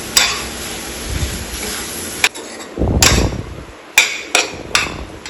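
Puffed rice is tossed in a hot pan with a spoon, giving soft rustling and light sizzle punctuated by several sharp metallic taps of the utensil against the pan rim, close and fairly loud.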